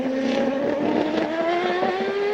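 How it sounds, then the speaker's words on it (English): A CART race car in qualifying at Montreal's circuit passes with a loud, sustained engine howl whose pitch slides slowly downward, broken by the rough stuttering of traction control cutting in, with no voices over it. "can hear the traction control, that flatulent, stuttering sound"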